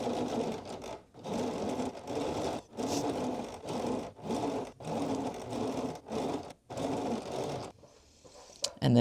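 A sewing machine stitches tape along a hoodie seam in repeated bursts of rapid whirring, each run broken by short pauses, close and clear, ending in a brief quieter stretch.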